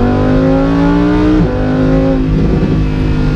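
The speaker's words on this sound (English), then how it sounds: "just listen to these downshifts. And that pop and bang" A stock Lamborghini Huracan Performante's engine loud and close, holding a steady rev before dropping through downshifts with a crackling pop near the midpoint, then burbling on.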